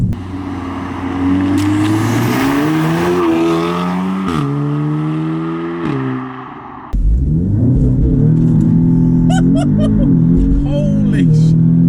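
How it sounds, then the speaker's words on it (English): A 420 bhp Audi S3 four-wheel-drive car launches and accelerates hard, its engine rising in pitch through loud revving, dropping at a gear change, then climbing again close by. "See, these launches are brutal on these cars."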